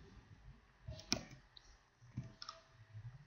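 A computer mouse clicks in a quiet room, with one sharp, crisp click standing out, a second softer one later and faint handling noise between.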